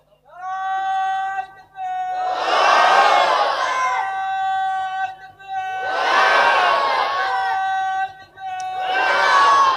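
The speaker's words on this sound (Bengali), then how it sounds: "একবার হাত তুলে তাকবীর মারো।" A large crowd at an Islamic sermon gathering roars a takbir chant in three loud, sustained bursts separated by brief pauses, with a leading voice rising above the massed shouting.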